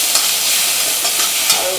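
Onions sizzle in hot oil in a pan, with a bright continuous frying hiss and soft scraping as they are stirred, close up.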